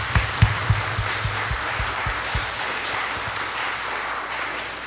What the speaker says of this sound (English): So let's give a round of applause to our participants.